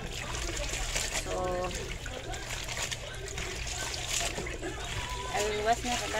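Water splashes and trickles as clothes are washed by hand in a basin. The sloshing runs steadily throughout, with a low hum and voices talking over it.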